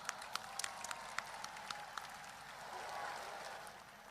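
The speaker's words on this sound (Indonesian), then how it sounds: "kita berikan tepuk tangan yang paling meriah lagi untuk Banser Nahdlatul Ulama" A large crowd at the centenary reception of Nahdlatul Ulama in Indonesia gives fairly faint, distant applause, with a few sharper claps up front at the start before it settles into a steady wash.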